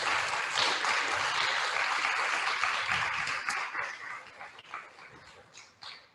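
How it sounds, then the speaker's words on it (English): A crowd at a Palm Sunday refugee justice rally gives a sustained round of applause, dense and steady for several seconds before thinning into scattered claps and fading out. "can we have a round of applause for Ali for being here with us today and speaking to us?"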